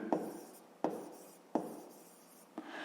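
A pen writes a fraction for a fifth-grade maths exercise, four distinct scratchy strokes each starting with a sharp tap, close and quiet, with no voices.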